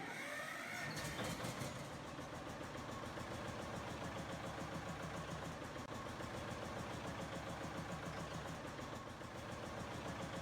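A 1947 John Deere Model B tractor in Farming Simulator 19 starts up and settles into a steady, throbbing mid-pitched idle, close and continuous with no talk.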